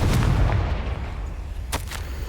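A Confringo fire spell blast in Hogwarts Legacy bursts with a heavy, booming impact, followed by a few sharper crackling bursts as it fades.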